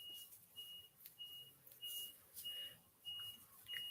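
A reversing truck beeper sounds in a steady row of evenly spaced high beeps, about six in a few seconds, faint and distant over quiet outdoor background.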